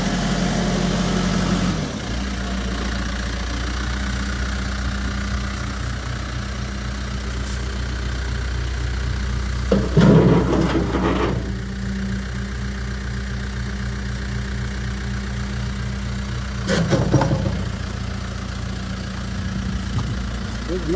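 A 2009 Case 580SM Plus II backhoe idles and reverses in fourth gear, its diesel engine chugging in a steady low rumble with a couple of brief clanks and bursts, no speech over it.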